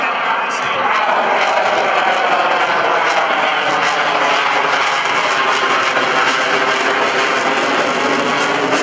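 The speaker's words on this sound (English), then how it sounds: "Boy, they are really hanging it on that jet engine here." A Grumman EA-6B Prowler jet at the 2012 Rhode Island Air National Guard open house and airshow makes a slow pass, its engines giving a loud, sustained roar that fills the whole stretch.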